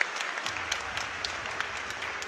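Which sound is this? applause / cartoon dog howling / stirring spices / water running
applause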